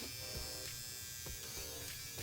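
A Pen Epil electric epilator runs continuously at close range, a steady motorized buzz with brief scraping bursts as it pulls out hair, with no talking.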